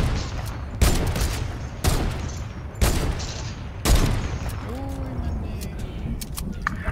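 Gunfire in a Fortnite Battle Royale match: four loud, evenly spaced shots or blasts ring out close by, followed by lighter clicks and game effects.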